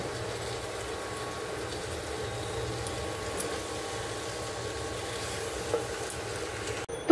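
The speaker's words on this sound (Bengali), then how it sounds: "ভাতটা একটু ভাজা হোক।" Rice fries in a pan with a soft, steady sizzle and faint stirring scrapes, quiet and continuous, ending in a sharp knock.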